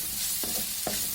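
Chopped ridge gourd sizzles steadily in a hot pan, with three distinct stirring scrapes spaced through the constant frying hiss.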